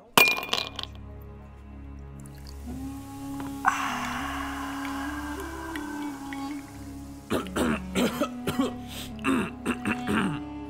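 A glass of water is served at a bar: sharp glass clinks and knocks, a stretch of pouring or running water, then a cluster of louder clinks near the end, with a throat clearing early on.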